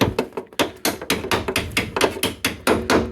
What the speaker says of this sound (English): I'm going to grab a hammer and just ever so slightly give that a little tap.